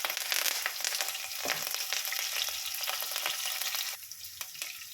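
Finely chopped green chillies sizzle and fry in hot oil in a pan, a continuous crackling hiss with stirring scrapes that eases slightly near the end.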